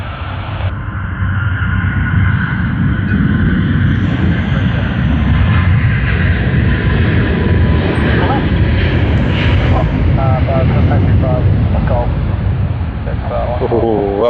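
A heavy Qatar Airways jet, flying as Virgin Australia VA1 to Doha, roars loud and steady during its takeoff run at Sydney Airport, a broad continuous engine rumble with a voice talking over it.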